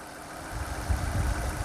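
A car engine idles with the belt turning the AC compressor, a steady mid-level hum that swells into a deeper low rumble partway through, close up, with no talking.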